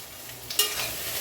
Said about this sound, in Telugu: మూత పెట్టేసి వేయించుకుందాం.